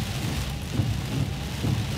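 Steady rain falls outside a truck cab, a dense, even wash of patter with a low rumble beneath it, continuous and fairly loud with no voices.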